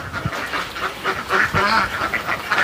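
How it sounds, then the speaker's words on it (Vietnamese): A flock of farm ducks in rural Vietnam, tended by a young herder, quacks loudly and close by. The calls overlap in a continuous busy chatter with no voices. "Những cái con vịt mà nó đẻ muộn á thì Bin cũng sẽ lượm lại và sẽ đưa cho chủ."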